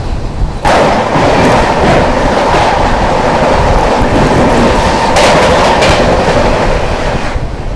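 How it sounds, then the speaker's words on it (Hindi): New Delhi–Bhubaneswar Tejas Rajdhani Express with an LHB rake passing close by, a loud sustained roar of wheels and coaches with rhythmic clickety-clack over the rail joints. "ये थी अपनी न्यू दिल्ली भुवनेश्वर तेजस राजधानी एक्सप्रेस। LHB रैक में चल रही थी।"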